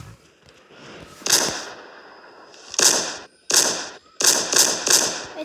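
Shotgun firing in the video game Rolling Thunder PvE: about six sharp, loud blasts at irregular intervals, with a brief quiet lull between the first and second shots and a quick cluster of three near the end.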